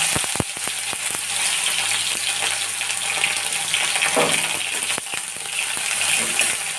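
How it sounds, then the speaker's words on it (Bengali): Bitter gourd pieces frying in hot oil, a loud, steady sizzle with a few sharp clinks at the start and no talking. "এরপর আমি এর মধ্যে তেলের মধ্যে দিয়ে দিলাম করলাগুলো"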